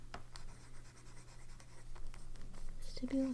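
A Junhao X750 broad-nib fountain pen scratches across paper in short, faint strokes, with a steady low hum underneath.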